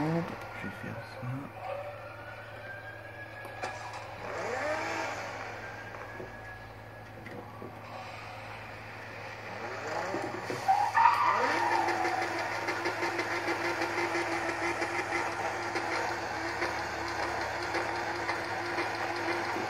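Nissan GT-R racing in Need for Speed Most Wanted, its game engine note sweeping up and down through repeated revs and gear changes, swelling louder and steadier toward the end over a constant low hum.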